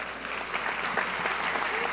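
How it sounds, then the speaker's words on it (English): At a congress closing ceremony an audience applauds steadily, many hands clapping in a moderately loud, continuous wash. "So can we give them a round of applause"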